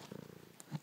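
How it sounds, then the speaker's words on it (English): A cat resting in someone's lap purrs softly and steadily close by, a low rhythmic rumble with a faint higher squeak near the end. "My kitty's in my lap."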